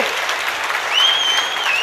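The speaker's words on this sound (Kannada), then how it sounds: "ತಾಯಿಗೆ ಚಪ್ಪಾಳೆ ನಿಜವಾಗ್ಲೂ ಹೊಡಿಬೇಕ್ರಿ" Audience at a public event applauding for a woman legislator, dense steady clapping from many hands with a brief high whistle riding over it midway, close and fairly loud throughout.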